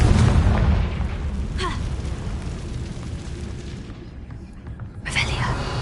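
Confringo blasting spell explosions in Hogwarts Legacy: a rumbling, booming bed with a sharp burst early on and another near the end, under occasional speech.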